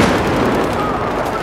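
A sniper rifle fires in a first-person shooter video game, a loud dense burst of gunfire sound that fills the whole moment with a steady roar of shots and noise.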